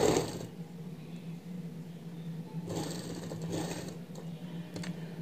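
A sewing machine stitching along the edge of a sleeve piece, a quiet, close, steady mechanical whirr with faint rattling bursts at the start and midway.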